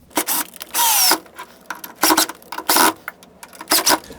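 Close-up power drill driving a screw into the leg of a model railroad module, heard as several short whirring bursts with one longer run between pauses.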